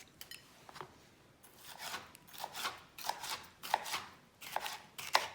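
A knife cuts halved chili peppers into thin strips for a ranchero-style beef dish, making a series of crisp, close chopping strokes. The strokes come irregularly at first and grow louder and sharper toward the end, with no talking.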